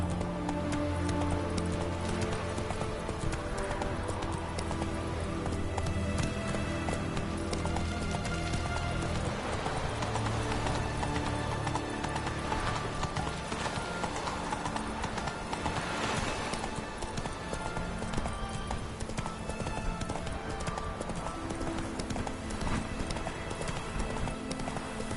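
Roach, a horse in The Witcher 3, gallops with steady rapid clip-clop hoofbeats that run continuously over a dense, loud game soundscape of music and ambience.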